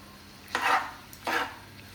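Pasta being stirred in a pan, with two distinct scraping strokes about three quarters of a second apart, each a short close rasp over quiet kitchen background.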